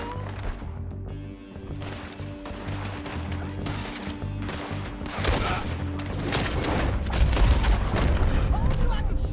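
Gunfire in the Red Dead Redemption 2 video game, in a shootout in the New South: dense, booming volleys of shots that pile up and grow louder toward the end, with voices talking over the battle.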